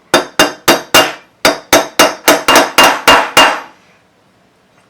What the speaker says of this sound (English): we're just going to use this punch and see if we can't tap it on in